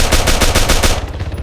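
Rapid automatic gunfire from an online multiplayer shooter game plays loud and close, a dense burst of quick repeated shots that fades into a brief tail.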